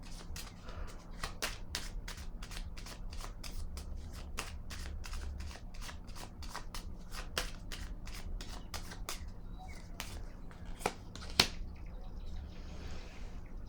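Small cards being shuffled close by, a quiet run of crisp, evenly spaced flicks and snaps repeating steadily for over ten seconds, with one sharper snap near the end and a faint hum behind.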